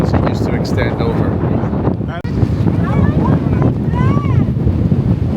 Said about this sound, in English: Look at the wind whipping.